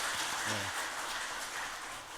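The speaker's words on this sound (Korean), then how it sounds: "우리 아동부 친구들 다시 한번 박수 한번" Children from a church's children's department receive applause during a joint worship service, a dense, even wash of clapping from a crowd that holds steady and fades slightly.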